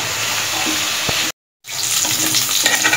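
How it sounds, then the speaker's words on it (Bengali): Meat frying in a pan for a home-cooked iftar meal, a steady loud sizzle that cuts out briefly and then returns. "মেইনলি হচ্ছে মাংসটা ভেজে নিচ্ছে আর কি"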